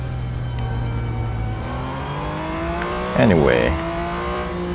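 A Porsche 911 GT2 RS Clubsport race car engine in the Real Racing 3 video game, a steady rising engine whine chased by an Aston Martin Vulcan, with a short loud burst of revving and tire squeal and a brief voice over it.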